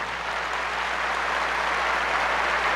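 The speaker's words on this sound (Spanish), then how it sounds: "Démosle un fuerte aplauso." Steady applause from an evangelical church audience, a dense, continuous wash of clapping at moderate level with no voices over it.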